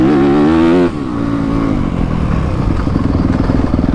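A 2021 Yamaha YZ250FX dirt bike engine holds a steady, loud running note close by, with a brief higher rev at the start before it settles into an even rumble.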